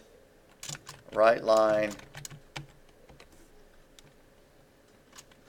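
Keys clatter on a computer keyboard as code is typed, a steady patter of light clicks running through most of the stretch, with a person speaking briefly over the keystrokes.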